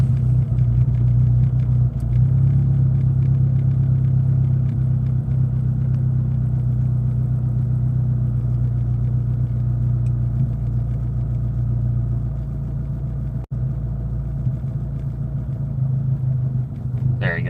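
A Volkswagen GTI that is running poorly idles with its electric exhaust dump open, giving a steady, close, deep rumbling drone that holds throughout with only slight dips.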